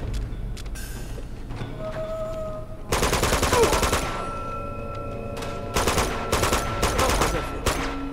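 Sustained bursts of machine-gun fire from the Uncharted 2: Among Thieves monastery level, loud and dense: a long rapid volley around the middle, then several shorter repeated bursts over continuous background battle noise.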